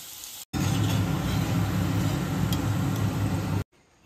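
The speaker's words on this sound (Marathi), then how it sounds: "आता मोदक तळण्यासाठी तेल टाकूया" Wheat modak frying in hot oil, a steady broadband sizzle that starts abruptly and holds evenly for about three seconds before cutting off, close and fairly loud.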